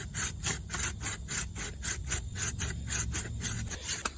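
A pruning saw makes an upcut partway through a tree branch, giving a steady run of rhythmic rasping strokes, close and moderately loud, with no talking.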